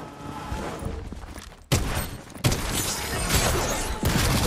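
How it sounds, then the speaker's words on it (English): Gunfire in the Fortnite video game arrives as a few sharp, loud bursts and thuds amid continuous game noise, with distinct hits spaced a second or so apart. "somebody shooting"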